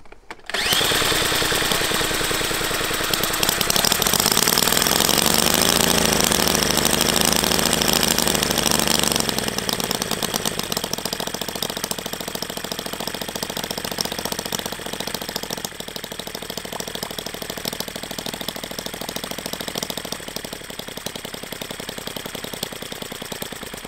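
A Jerry Howell V-twin model internal combustion engine runs on its first start, a loud, steady, rapid buzzing that revs higher for several seconds and then settles to a slightly lower, even drone.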